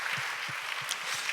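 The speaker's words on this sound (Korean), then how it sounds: "우리 박재현 목사님께 우리 박수 한번 주시면 감사하겠습니다" Soft, steady applause from a church youth congregation honoring a pastor, a continuous patter of many hands heard at a distance and fairly faint.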